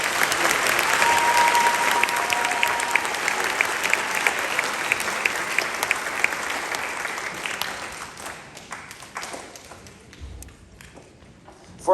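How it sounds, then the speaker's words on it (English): A school auditorium crowd claps for seventh-grade concert band students at a spring concert, a dense sustained round of applause that gradually thins out into scattered claps and fades near the end. "let's give these students for the Fabulous 50 Club one more round of applause"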